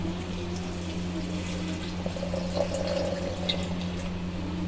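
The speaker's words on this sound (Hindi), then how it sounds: "साथ ही हम पानी शामिल करेंगे, तकरीबन 1 गिलास।" Water poured into a jug for a mint and raw mango sharbat, a steady soft splashing stream over a low background hum, no talking.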